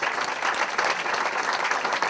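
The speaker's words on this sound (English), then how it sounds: "he deserves a round of applause" Audience applause at a live reading at Prairie Lights in Iowa City, a steady dense wash of many hands clapping throughout, fairly loud and close with no talk over it.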